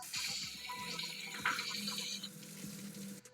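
Running tap water rinsing a pair of Jordan 2 and Jordan 3 sneakers in a sink, a steady close splashing wash that carries on for a few seconds and then cuts off near the end.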